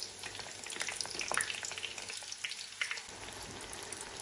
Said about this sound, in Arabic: بقلي الباذنجان بالزيت الحامي،